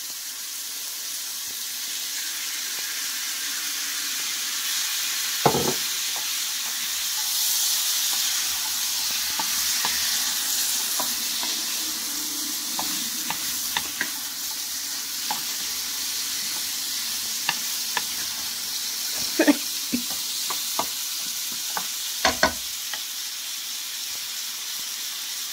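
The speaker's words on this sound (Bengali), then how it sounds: "জালি কুমড়োটা আমি ভালো করে কষিয়ে নিলাম" Ash gourd and chopped tomatoes are sautéed in a pan under a continuous steamy sizzle, with intermittent clacks and scrapes from stirring and a few louder knocks against the pan.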